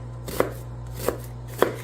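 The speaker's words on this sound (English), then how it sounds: "So let me dice the onion really small" A knife dices a regular yellow onion on a cutting board: three separate crisp chops spaced about half a second apart over a low steady hum, with no talking.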